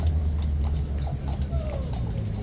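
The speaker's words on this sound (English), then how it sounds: "his horse is massive" A large police horse clip-clops with irregular hoof strikes over a dense, steady background din.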